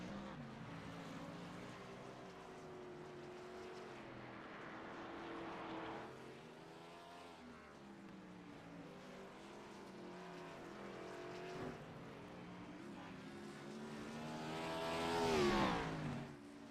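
Race cars in a racing video game lap the Sonoma circuit, engines whining and shifting pitch as they pass, building to a louder sweep near the end; no one speaks.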